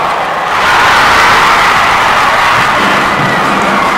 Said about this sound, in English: A lot of cheering for nothing.